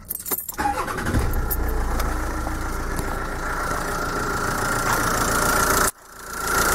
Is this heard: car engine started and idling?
yes